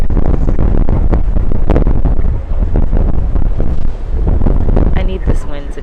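Strong outdoor wind buffets the microphone in a loud, continuous, rumbling roar that swells and dips, with a person talking faintly underneath.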